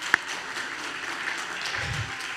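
Audience applause for a church elder during an afternoon worship service, a steady wash of clapping throughout with a brief louder tap near the start and a low rumble toward the end.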